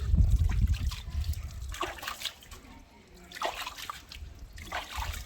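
Water trickles and splashes in small, close pours as a traditional grinding stone is rinsed clean after grinding, in intermittent bursts with quiet gaps.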